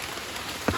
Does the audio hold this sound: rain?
yes